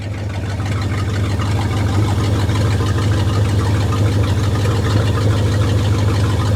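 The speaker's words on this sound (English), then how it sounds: "This thing is idling smooth." A Ford F600 truck engine idles steadily up close, a low, even rumble with a constant throb and no talking.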